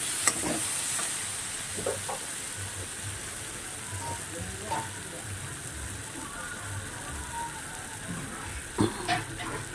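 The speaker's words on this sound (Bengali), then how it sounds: "বুঝেছো, এভাবে এভাবে নেড়ে দিতে হবে, নাড়াচাড়া করে দিতে হবে, তাহলে কোনোভাবেই লাগবে না।" Katla fish curry masala stirred in a pan, a soft steady sizzle with occasional scrapes and a few louder knocks of the spoon near the end.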